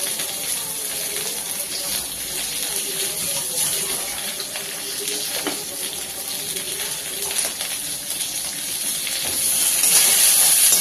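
Brinjal sautés with salt in a pan, a continuous close hiss of steam and sizzle that swells slightly near the end.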